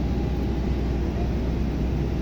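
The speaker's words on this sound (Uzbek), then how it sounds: "Mana hozir samolyotimiz tayyorlayapmiz" An airplane being readied at an airport, with its wheels being changed, sits under a steady, even low roar and broadband rush and no distinct breaks.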